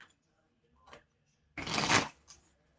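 Tarot cards being shuffled during a reading: a soft riffle near 1 s, then a louder, dense papery burst of shuffling for about half a second, followed by faint rustles.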